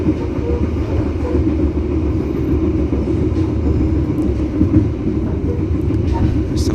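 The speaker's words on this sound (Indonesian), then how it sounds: "setelah ini kereta api Logawa akan berjalan langsung lagi di stasiun Solo Balapan" The Logawa passenger train rumbles through Solo Jebres station in a continuous low, steady rolling drone with faint clicks and squeaks on top, heard from nearby.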